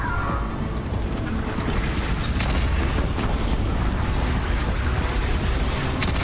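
Cannon explosions in the video game Horizon Zero Dawn make a dense, continuous roar of heavy booms and low rumbling blasts that stays loud from start to finish.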